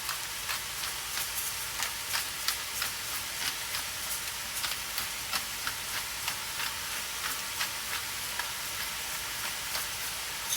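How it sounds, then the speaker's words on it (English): Ground meat and vegetables seasoned with salt and pepper sizzle while browning in a pan for pasta bolognese, a dense continuous hiss with regular scraping stirs and small pops, close and steady, no talking. "We're going to mix this through until our meat gets brown and our vegetables are cooked through as well."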